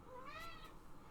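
A single cat meow, short and rising then falling, heard clearly and alone at moderate volume.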